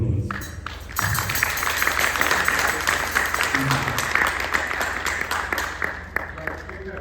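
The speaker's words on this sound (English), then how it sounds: "So give a big round of applause." A large audience at a community devotional gathering claps steadily for a multi-talented child, a broad continuous wash of applause with a voice talking over it.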